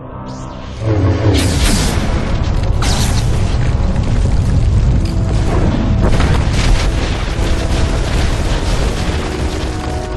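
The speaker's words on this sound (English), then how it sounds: "A precise lightsaber sweep as you exit will cause the cave-in" A cave collapses in SWTOR after a lightsaber sweep, starting with a sudden heavy boom followed by continuous loud rumbling, crashing rock and repeated impacts that stay intense throughout.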